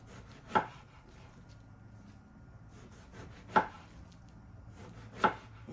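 Knife chopping an eggplant on a cutting board into roughly half-inch pieces, three sharp, separate cuts spaced a few seconds apart over a faint background hum.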